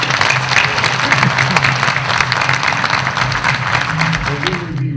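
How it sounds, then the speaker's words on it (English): Loud, sustained applause from an audience at a formal military award ceremony, honoring senior cadets about to be commissioned as lieutenants; dense clapping fills the whole stretch, with a faint murmur of voices mixed in. "join me in a round of applause recognizing these senior candidates"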